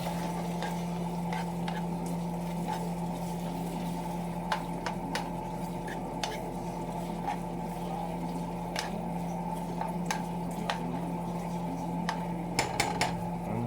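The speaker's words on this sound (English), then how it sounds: "Give this a stirring again." A spoon stirs shepherd's pie filling in a pot, with scattered clinks and scrapes against the metal over a steady low hum and faint simmer, close by and with no talk.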